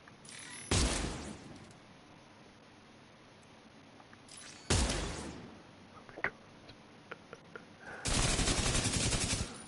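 A turret in Division 2 fires three loud, dense bursts of rapid automatic gunfire. Each burst lasts about a second or more, with quieter stretches and scattered sharp clicks and impacts in between.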